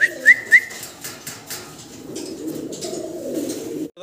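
Fancy pigeons kept in a loft coo softly and repeatedly, close by, with a few short whistles at the start and low murmuring coos building toward the end, no speech.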